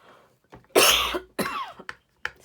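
A person coughs hard at close range, one long harsh cough followed by a second burst and a couple of short throat-clearing hacks, loud and isolated with no speech.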